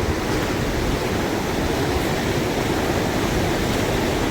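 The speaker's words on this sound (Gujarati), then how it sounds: "પાણીનો તાણ જ એટલો છે ને, આમ જો કેટલો તાણ છે, બહુ તાણ છે પાણીનો" A strong river current rushes past a riverfront by a temple, a loud continuous roar of churning water with no voices over it.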